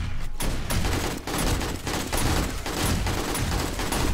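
Heavy-recoil gunfire in the game 7 Days to Die rips out in loud, close bursts of rapid shots, with brief gaps between volleys and no voices over it.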